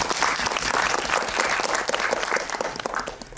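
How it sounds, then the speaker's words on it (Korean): An audience at a film talk event gives the director a round of applause, dense and steady clapping from a crowd that stays strong throughout before easing slightly at the close. "감독님께도 박수 한번 부탁드리겠습니다."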